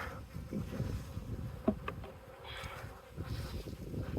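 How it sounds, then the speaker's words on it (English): Honeybees buzz all around at close range while being transferred from a nuc into a Langstroth hive, a continuous droning hum that swells and fades as they fly past, with a few faint knocks. "So the bees that are out flying and defending right now"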